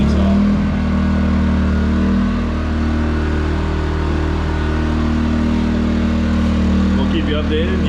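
A Harbor Freight Predator 2000 watt inverter generator idles with a steady, droning engine hum at an even pitch, close and loud, with a voice faintly heard near the end.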